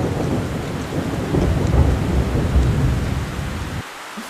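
Heavy rain pours steadily with deep rumbling thunder in an animated film scene, a dense continuous roar that drops away abruptly at the end, with no talking.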